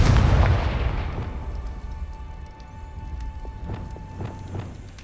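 A blasting spell in the Hogwarts Legacy video game bursts with a loud close boom that fades into a rumbling tail, followed by faint scattered ticks and a low hum.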